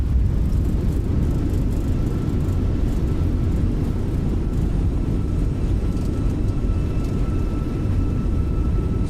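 An airliner rolls down the runway after landing in Microsoft Flight Simulator 2020, its reverse thrust a loud, continuous broadband roar that stays steady throughout, with no speech.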